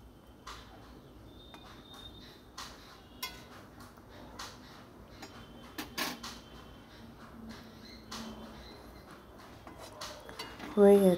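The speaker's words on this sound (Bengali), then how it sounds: "এবার একটু নেড়ে দিচ্ছি" Mustard and poppy seed paste stirred in a pan for a fish curry: quiet scattered scrapes, clinks and knocks of a utensil against the pan over a low background, with a louder clatter at the end.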